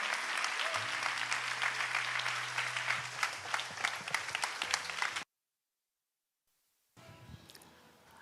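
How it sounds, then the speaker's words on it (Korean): At a school admissions information session, a large audience claps loudly to welcome the middle school vice principal, a dense, sustained ovation that cuts off abruptly into silence before faint room sound returns. "우리 나오실 때 큰 박수로 환영해 주시면 감사하겠습니다."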